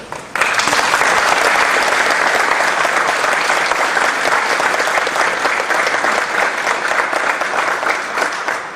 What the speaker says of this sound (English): I think that Professor Rainey and Tim Welsh deserve a really big round of applause for this.